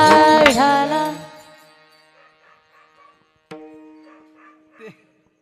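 Dog barking at a kirtan: a few loud, close yelps and barks in the opening second, trailing into faint whimpers, then two brief sharper sounds later.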